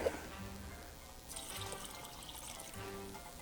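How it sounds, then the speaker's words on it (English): Vegetable stock splashes and trickles softly into a soup pot for bean and ham soup, a faint, brief pour heard alone. "We're going to add in our vegetable stock here."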